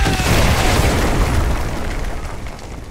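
A loud, heavy artillery strike in Call of Duty: Modern Warfare 2 Remastered booms and rumbles through the whole stretch, then slowly fades.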